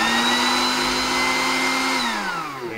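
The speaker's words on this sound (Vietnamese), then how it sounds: "nghe tiếng motor nó chạy đầm mạnh đó." A 100V electric grinder, size 16, runs hard with a loud, steady motor whine and hum that holds level, then begins to wind down and slow in the final moments.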